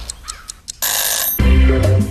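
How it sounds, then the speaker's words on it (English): A kitchen timer set for poaching eggs goes off with a quick run of short, evenly spaced beeps, then gives way to a louder, sustained noisy burst and a low humming tone. "Start the timer, 4 minutes."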